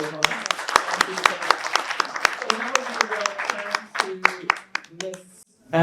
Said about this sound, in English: Just give a round of applause for Dr.